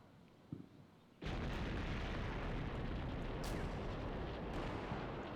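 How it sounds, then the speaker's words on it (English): A deep, loud explosion in the Cold War combat game Combat Mission: Cold War erupts suddenly and rolls on as a sustained roar, with sharper bursts breaking through it, after a quiet stretch that holds a faint thump. "that's a nice explosion over there"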